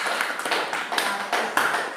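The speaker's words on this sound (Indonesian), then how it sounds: "Kita berikan aplaus." Applause from a class audience at a teaching practice session in Merauke, dense overlapping claps with a few sharper accents, steady and moderately loud throughout, no talking.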